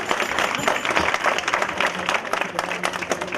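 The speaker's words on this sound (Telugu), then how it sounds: "ఈ నిలబడ్డ వాళ్ళందరికీ చప్పట్లు కొట్టండి ఒకసారి" An audience at a Ganesh festival gathering in Sangareddy bursts into dense, continuous applause, many hands clapping loudly and evenly throughout with some crowd noise mixed in.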